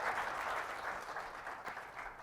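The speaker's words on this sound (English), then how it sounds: "I noticed the claps are kind of weak." Evening audience at a Bangalore roadshow event applauding, a soft, even wash of distant clapping that holds steady and fades a little toward the end.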